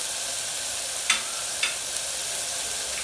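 Onion, green chilli and tomato frying together in a pan for a lentil paruppu kulambu, a steady close sizzle broken by a few quick spatula scrapes.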